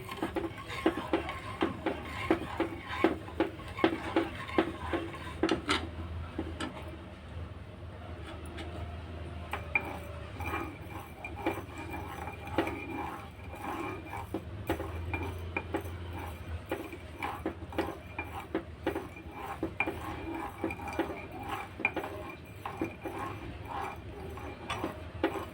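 Sugar dissolving in a mango ice-cream mixture is stirred in a pot, a spoon scraping and clinking against the metal in a quiet, steady, repetitive rhythm throughout.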